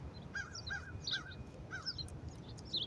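Crows give a quick series of harsh caws, several overlapping calls close together over a low outdoor rumble, with no one speaking.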